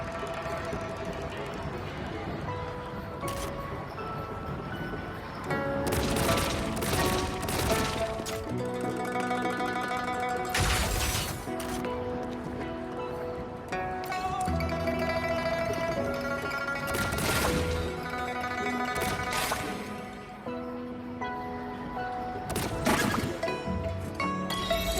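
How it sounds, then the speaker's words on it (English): Repeated shooting in the Moon Shooter minigame of Wuthering Waves during a moon festival, with sharp bursts and cracks over bright game music and chimes, some shots in quick clusters. "Wow! Very impressive shooting skills!"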